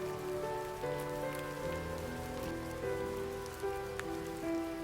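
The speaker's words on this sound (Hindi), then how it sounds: "जब तक ये बारिश थमती नहीं" Steady rain pattering on a surface, a dense continuous hiss with scattered drops, fairly close and even throughout with no voices.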